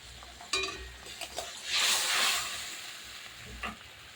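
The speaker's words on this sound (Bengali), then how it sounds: "দেখুন কি সুন্দর টকবক করে ফুটছে" Hilsa curry with mustard, poppy seed and cumin paste, turmeric and salt simmers in a pan, a soft hissing bubble that swells midway, with a few light clinks.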